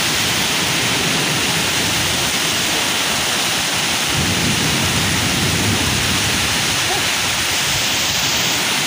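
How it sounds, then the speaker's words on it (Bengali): Heavy rain pours down steadily during a violent nor'wester storm in a rural village, a dense, loud roar of water with strong wind gusts and no break throughout. "আলহামদুলিল্লাহ বৃষ্টি শুরু হয়ে গেছে"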